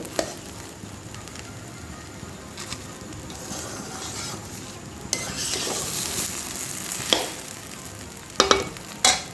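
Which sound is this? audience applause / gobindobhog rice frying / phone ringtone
gobindobhog rice frying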